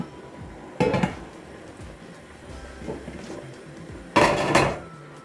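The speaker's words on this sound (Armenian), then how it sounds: "Հարկավոր է թավան դնել գազօջախին" A metal frying pan set down on a gas stove in a home kitchen, two sharp clanks about three seconds apart, close and loud against a quiet background.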